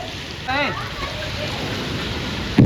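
Steady rain falls during a storm in Gujarat, a continuous hiss of drops on surfaces. A voice calls out briefly over it early on, and a sharp knock comes at the very end.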